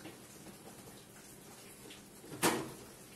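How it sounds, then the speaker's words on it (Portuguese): A pressure cooker lid is set down and closed in a home kitchen, one brief clattering knock near the end of an otherwise quiet moment. "Agora vou tampar a panela de pressão e deixar isso aqui cozinhar."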